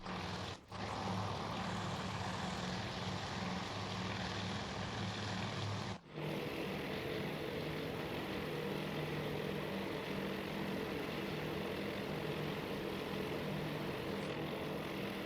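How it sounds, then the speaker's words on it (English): Dive bomber aircraft engines drone in a carrier battle video game, a steady low propeller hum with brief cut-outs, continuous and fairly distant with no talk. "It's looking like the dive bombers are starting to get close to their targets here."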